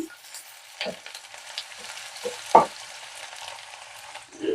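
Finely chopped onions for egg curry fry quietly in a pan, a faint sizzle punctuated by a few spaced spatula knocks and scrapes, one louder clack near the middle.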